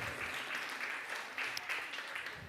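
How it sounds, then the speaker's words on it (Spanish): A church congregation applauding during a Spanish-language worship service, a steady wash of clapping hands heard from some distance, fairly faint and without a break. "Un aplauso, un aplauso, un aplauso."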